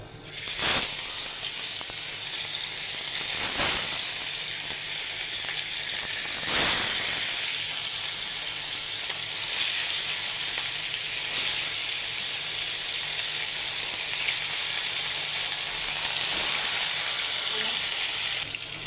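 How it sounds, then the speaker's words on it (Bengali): Katla fish fries in hot oil in a frying pan, giving a continuous loud hiss and sizzle broken by a few sharp crackling pops, with no talking. "ফ্রাই প্যানটা গরম হয়ে গেছে, মাছটা বসাই দিব।"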